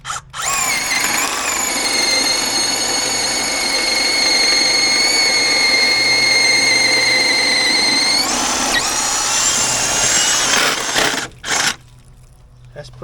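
A power drill bores a 1.25 inch hole for an outside water hydrant install, whining loud and steady for several seconds before winding down and stopping abruptly.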